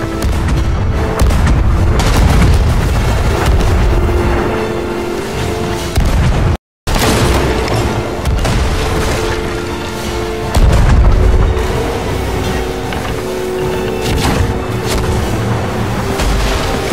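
Ship cannons firing in the pirate game Sea of Thieves, with heavy booming blasts rolling one after another at close range, loud and nearly continuous, broken by one brief silent gap.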